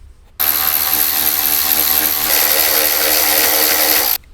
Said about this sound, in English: We're going to go ahead and remove that with the 7mm socket